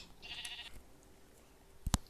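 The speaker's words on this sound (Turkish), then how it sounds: "İçeride bir koyun var." A single short sheep bleat from the video game Minecraft near the end, preceded by faint electronic tones, with no voices.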